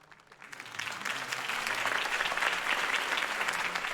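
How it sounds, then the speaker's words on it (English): Crowd applause in Batman The Telltale Series after a Harvey Dent campaign speech, a dense clapping roar that swells up from near silence and then holds steady and loud. "If only Mr. Wayne, my campaign's largest backer, could have heard that applause"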